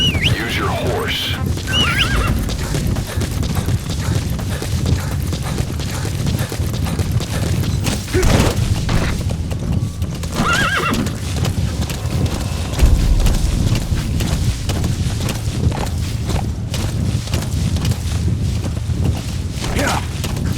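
Horse from Metal Gear Solid V: The Phantom Pain whinnying loudly near the start, with repeated neighs and hoof clip-clops over a dense game soundscape of rumbling ambience and occasional booms; someone talks at times.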